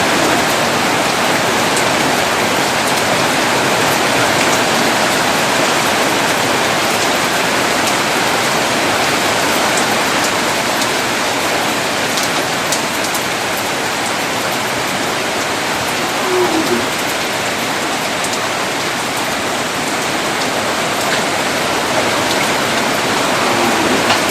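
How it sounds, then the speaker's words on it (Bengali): Rain falls steadily and heavily, a continuous even hiss of drops on surfaces with no voices, unchanging for the whole stretch. "আল্লাহর রহমতে বৃষ্টি আমরা পাচ্ছি আজকে"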